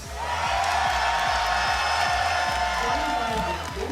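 A large crowd at a Tekken 8 tournament in Sweden cheers and roars continuously, loud and sustained, with a steady thumping beat underneath.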